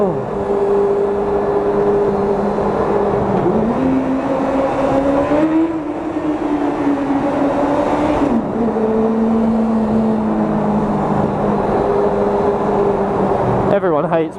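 A motorcycle engine revving inside a road tunnel: a loud, reverberant drone whose pitch climbs and dips as the throttle rises and falls throughout.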